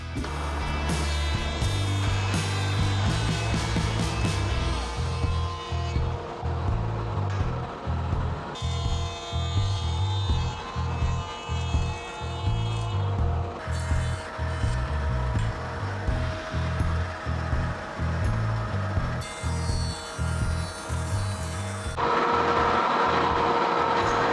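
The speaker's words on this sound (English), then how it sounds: "And then we can run it through the planer to make it flat." A purpleheart board runs through a wood planer, a loud, close machine roar with a regular pulsing throb that continues steadily for over twenty seconds.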